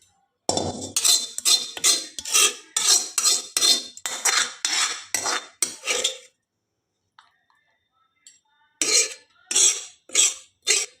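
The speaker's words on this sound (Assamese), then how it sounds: "দাইলখিনি মই এতিয়া কাঢ়োঁ, কাঢ়ি পেলাই এটা বেলেগ পাত্ৰত থৈ দিম।" A metal ladle scoops dal from a pot, giving a run of about a dozen sharp scraping clinks in quick rhythm, a pause with faint ticks, then a few more close scrapes.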